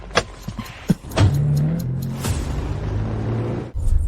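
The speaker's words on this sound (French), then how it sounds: "Monte dans la voiture." A car heard from close by: door clunks and thumps, then an engine starting and idling with a steady hum for a few seconds before another thud.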